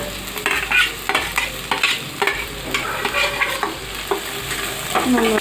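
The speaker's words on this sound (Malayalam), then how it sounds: "ഇനി നന്നായിട്ട് വഴറ്റിയെടുക്കാം." Green chili, garlic and ginger sauté with onion in a pan for a liver curry, a steady close sizzle broken by repeated scraping stirs throughout.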